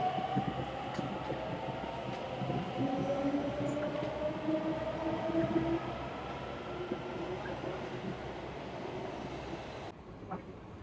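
Inside a moving metro train, a steady rumble and rolling wheel noise carry on throughout, with rising electric motor whines, faint clicks and a brief muffled voice.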